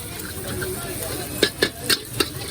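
An egg frying in a pasta pan at a street stall in Old Dhaka, with a steady close sizzle and hiss broken by four sharp scraping clatters in the second half, faint voices in the background.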